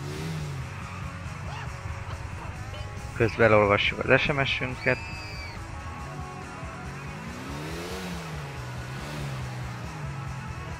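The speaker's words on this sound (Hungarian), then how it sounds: "Most épp lopunk egy motort, és jövünk ide" A stolen motorbike's engine revs in Grand Theft Auto IV. A steady, low engine drone runs throughout, with a brief louder surge partway through, under someone talking.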